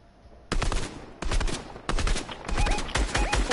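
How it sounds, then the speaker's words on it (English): Rapid laser gunfire in a video game, four loud bursts of rattling zaps in quick succession with faint electronic chirps between them. "they're lasering us at the same time we're lasering them"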